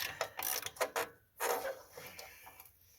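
Bolts worked loose underneath a Sunflower disc harrow, a close burst of ratcheting wrench clicks and metallic rattles in uneven spurts with short pauses, no talking.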